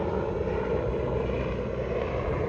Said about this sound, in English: I'm gonna try to yell over the sheriff's department helicopter